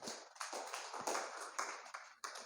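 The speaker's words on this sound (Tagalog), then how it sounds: "Palakpak po sa Panginoon." A crowd applauding, a dense wash of clapping with a few stronger swells, continuous for a couple of seconds.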